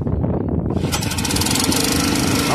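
A petrol-kerosene rail drilling machine, used for bolt holes in rail fish plates, starts up: a rough low engine rumble climbs into a loud, steady, buzzing roar close by.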